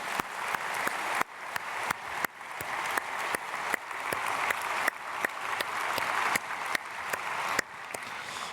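A church congregation claps together at a dawn prayer service in a large hall. The applause is dense and steady, with sharp accented claps at a regular pulse throughout.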